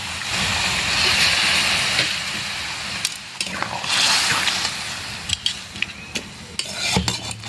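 A little water goes into a cooking pot of pumpkin and vegetable-stalk chorchori, making a broad hissing sizzle in two surges, followed by scattered clinks and stirring.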